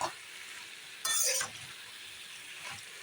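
A mixed vegetable chorchori is sautéed over low heat in a pan, with a soft continuous sizzle and one louder scraping stir burst near the middle, close by and fairly quiet, with no voices.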